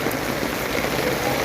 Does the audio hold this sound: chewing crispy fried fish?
no